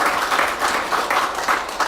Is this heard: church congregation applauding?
yes